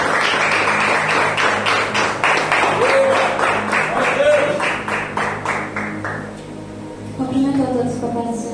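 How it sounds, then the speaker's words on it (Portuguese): Applause from a church congregation at an evening worship service, steady rhythmic clapping under organ or keyboard chords that runs for several seconds, then fades while voices start up near the end. "Vocês podem aplaudir."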